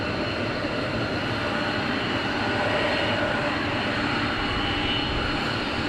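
F-15 fighter jets departing RAF Lakenheath, a loud continuous broadband jet-engine roar that stays steady and dense throughout, with no voices over it.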